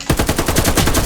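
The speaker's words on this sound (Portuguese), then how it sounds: "Olha o quanto eu tenho que atirar no cara." Rapid automatic gunfire in a first-person shooter video game, a loud continuous burst of closely spaced shots with no talk over it.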